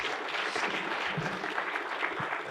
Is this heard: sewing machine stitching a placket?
no